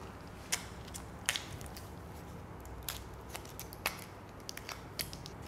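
A knife cuts and peels the foil from a champagne bottle during restaurant sparkling wine service, producing a handful of sharp, close scraping clicks spaced irregularly over faint background hiss.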